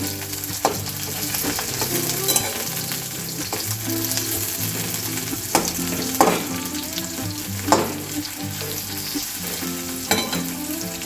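A medium raw potato frying in a pan ahead of an ivy gourd dish, giving a dense continuous sizzle with occasional scraping stirs, close and loud.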